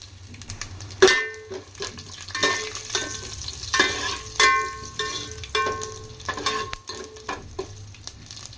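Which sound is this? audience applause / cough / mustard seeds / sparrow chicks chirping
mustard seeds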